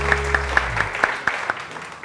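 Scattered, sparse claps from a studio audience on a TV morning show, a handful of distinct slaps spaced irregularly over two seconds, following a low hum that fades out early.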